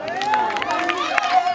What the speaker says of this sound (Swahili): Jamani makofi kwao